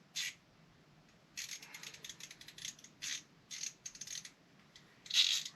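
A ratchet wrench clicks in quick bursts as it loosens a 10mm nut on a Mondeo ST220 engine during a compression test, with short runs of ratcheting separated by pauses and a louder final burst, close up with no talk.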